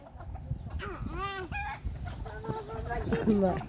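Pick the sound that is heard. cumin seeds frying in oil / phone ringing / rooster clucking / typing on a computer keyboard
rooster clucking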